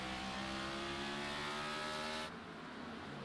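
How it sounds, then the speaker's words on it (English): Race car at Martinsville in a racing video game spinning its rear tires off the corner: steady high-pitched engine whine with harmonic buzz that cuts off abruptly near the end, leaving quieter noise. "It looks like he's just kind of spinning the tires off the corner."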